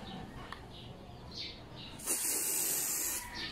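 A short hissing burst as Koby disinfecting foam is sprayed onto a helmet, lasting just over a second after quieter faint sounds.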